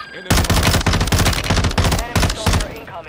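Tempus Razorback assault rifle tap-firing in Warzone 2: a loud, close run of rapid gunshots in quick uneven bursts, dense and continuous for about three seconds with brief gaps between volleys.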